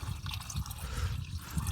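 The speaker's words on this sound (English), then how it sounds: "half fill the workshop watering can up with water" Water running into a half-filled workshop watering can, a continuous close gurgling pour with a low liquid burble throughout, no voices.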